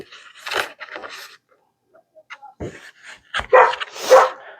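A pet dog barks in a few short bursts indoors, mixing sharp yips and whiny barks with brief pauses between, loud and close.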